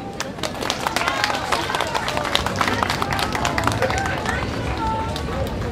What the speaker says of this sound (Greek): να χειροκροτήσουμε τα ζώα μας